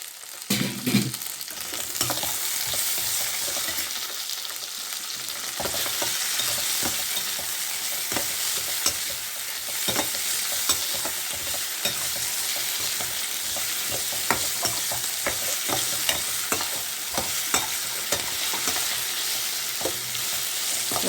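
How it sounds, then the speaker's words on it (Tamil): Onions and tomatoes frying in a pan for a Tamil egg curry, with steady close sizzling and repeated scraping stir strokes throughout, no talking. "நல்லா இப்படி கிண்டி விட்டுட்டே இருங்க. தக்காளி நல்லா வதங்கட்டும்."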